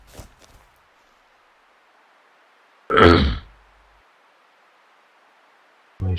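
A man with a cough and sore throat clears his throat once in a short, harsh, rasping burst close to the microphone, with brief throaty noises at the start and end and quiet background hiss between.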